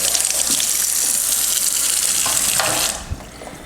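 Tap water runs steadily over brass cartridge cases being rinsed in a sink, a loud continuous splash that cuts off near the end, leaving a few faint drips and clinks.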